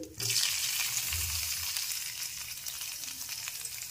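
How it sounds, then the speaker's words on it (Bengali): Cashews, raisins and paneer frying in a pan for paneer pulao give a steady, close sizzle with light stirring scrapes and low thumps, starting sharply and continuing evenly throughout. "এখন একসাথে সবকিছু একটু নেড়েচেড়ে ভেজে নিতে হবে।"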